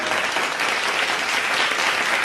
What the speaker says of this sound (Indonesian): Pagi-pagi udah pada tepuk tangan, ya.